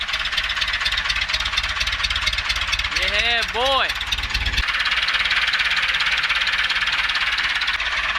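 A Lull all-terrain forklift, left sitting for 25 years, runs at a steady idle with a constant loud, rough engine drone throughout, and someone briefly speaks over it.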